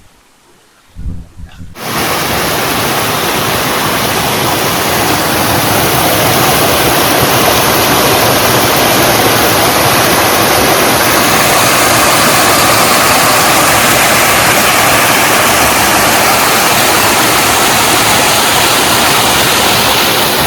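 Loud, steady roar of a waterfall in Khammam district, Telangana, rushing down, starting abruptly after a brief quiet moment and continuing unbroken, dense and close.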